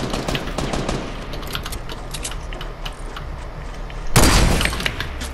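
Rapid Fortnite gunfire rattles off in dense bursts, with a louder, heavier blast near the end and little talk over it.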